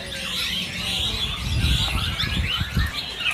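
Birds call in bright, overlapping chirps and trills at a kiosk in the Pramuka bird market, mixed with low thumps and market rumble nearby.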